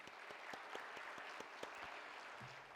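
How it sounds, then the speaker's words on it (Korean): Church congregation applauding in welcome during a service, a steady, dense clapping from many hands with sharper individual claps standing out, fairly close and continuous throughout. "우리 박수로 환영하겠습니다."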